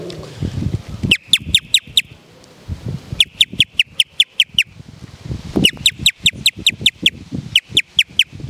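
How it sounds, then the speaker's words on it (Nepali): A house sparrow gives rapid chirps in four quick bursts of five to seven notes each, close and clear, with low rumbling background noise between the bursts. "एउटा भँगेरा चराको सुनाउँछु म हजुरलाई"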